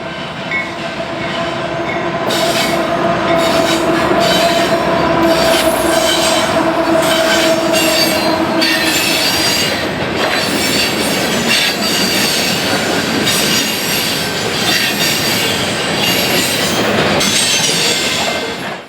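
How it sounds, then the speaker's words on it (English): A loaded CSX phosphate freight train, B207 from Florida's Bone Valley, rolls past on a connector onto the Elston sub near Chicago, its cars rumbling loudly and steadily with squealing wheels and rhythmic rail clicks, heavy and close throughout. "we catch loaded CSX phosphate train B207 from Florida's Bone Valley using the connector onto the Elston sub"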